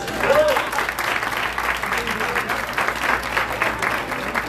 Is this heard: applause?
yes